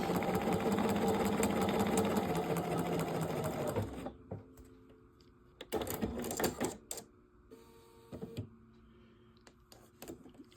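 Bernina sewing machine stitching quilt fabric with the help of a guide: a fast, steady mechanical whir for about four seconds, then stops, followed by short bursts of stitching and clicks, close and quiet.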